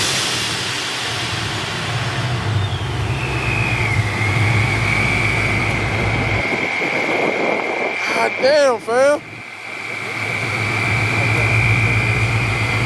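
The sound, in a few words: blacked-out Dodge Hellcat engine roaring like a jet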